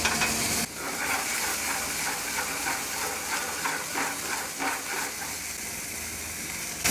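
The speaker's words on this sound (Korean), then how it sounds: "마지막으로 갈릭을 함께 볶고" Caramelized onion and garlic stir-fried in a pan alongside steak, a steady loud sizzle with hissing steam and scraping stir strokes, heard alone without talk.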